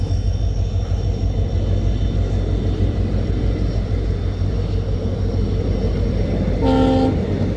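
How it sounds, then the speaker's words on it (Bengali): A long passenger train on the Silchar line rumbles past loudly with a steady heavy roar, and a short horn blast sounds near the end. "ওই যখন দেখতে পাই একটা ট্রেন যায়"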